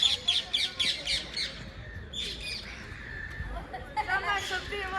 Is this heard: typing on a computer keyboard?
no